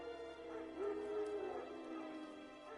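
Wild dogs in The Witcher 3 give off whimpering yips and low growls, fairly faint and mixed with ambient game sound, with no clear bark.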